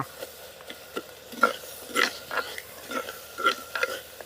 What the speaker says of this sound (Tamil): பொன்னிறமாக நல்லா வதக்கி எடுத்துக்கணும்